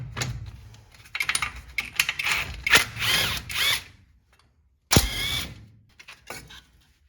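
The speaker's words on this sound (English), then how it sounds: "Now we have 4 13mm bolts we're going to remove." A power tool works four 13mm bolts off the spindle of an 88-98 C1500 truck, running in several whirring, ratcheting bursts with short pauses, then one sharp clank and a final burst, close and loud with no talk.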